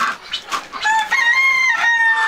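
A rooster crows nearby, a single drawn-out cock-a-doodle-doo following a few short clucks.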